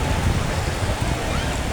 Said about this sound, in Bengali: সাগরের ঢেউ আর ঢেউ